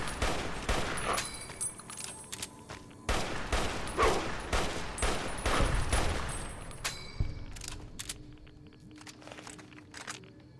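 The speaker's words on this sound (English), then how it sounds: "Three shots." Gunfire from the video game Fallout: New Vegas: a rapid burst of loud sharp shots cracking in quick succession, then more scattered reports fading into quieter ambient game sounds.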